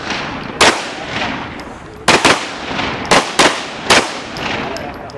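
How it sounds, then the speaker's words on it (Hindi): Firearm shots at a self-defence training course: about six sharp, loud reports, spaced irregularly over a few seconds, some in quick pairs, each with a short echoing tail over steady background noise. "अली सर आज मैं ही फायर करूँ"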